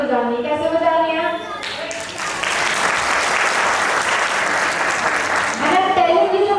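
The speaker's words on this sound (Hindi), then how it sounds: "आप सभी को जोरदार ताली बजानी है" At a company foundation day event, an audience breaks into loud, sustained applause lasting about four seconds, with someone speaking before and after it.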